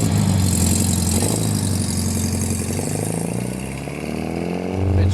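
A Volkswagen Beetle from a finished restoration project runs close by with a loud, rumbling, slightly uneven idle. The throttle eases off and swells again briefly toward the end.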